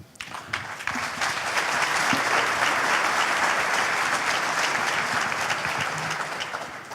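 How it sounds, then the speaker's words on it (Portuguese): Sustained audience applause at a corporate innovation panel during a business conference, dense and steady clapping from a large crowd that swells quickly and holds for several seconds before tapering slightly. "Uma salva de palmas, por favor."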